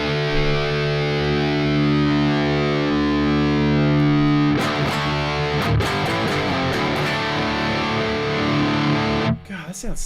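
Clean electric guitar played through an amp and cabinet with no overdrive pedal, ringing sustained chords that give way to busier picked notes before a brief stop near the end, with a voice talking faintly underneath.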